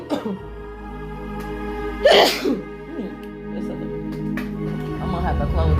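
A single sharp sneeze bursts out near the middle, surrounded by soft background murmuring and room noise.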